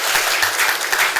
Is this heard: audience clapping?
yes